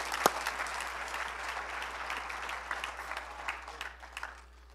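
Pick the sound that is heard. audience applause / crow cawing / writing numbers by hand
audience applause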